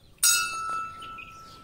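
A temple bell is struck once, a bright metallic clang that rings on with a sustained, slowly fading tone, faint and heard alone.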